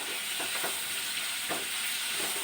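Ingredients sautéing in a pan, a steady bright sizzle and crackle with soft stirring scrapes running throughout at close range, no voices.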